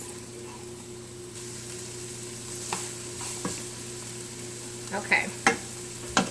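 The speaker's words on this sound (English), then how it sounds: "And I'm going to add my onions. And I'm just going to saute these for just a few moments." Onions sauteing in a pan for spaghetti meat sauce, a soft continuous sizzle with sparse stirring scrapes and a few sharper clicks toward the end, one brief spoken word.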